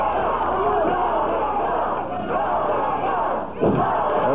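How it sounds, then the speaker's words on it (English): Studio wrestling crowd cheering for a wrestler at a championship wrestling taping, a loud continuous roar of voices with a ringside commentator talking over it throughout. "Everybody in Championship Wrestling Studio here is cheering for the King."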